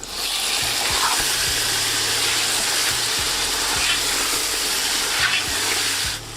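Chicken pieces fry over high heat in a pan for biryani, giving a loud, continuous hiss and sizzle with a few low clanks of stirring, no talking.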